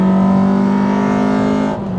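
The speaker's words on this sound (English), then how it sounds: "Those camshafts make a huge difference to the way the VTEC sounds" A Honda K24 VTEC engine fitted with upgraded camshafts holds a loud, steady high-rev drone with strong harmonics, easing slightly near the end, with no talking.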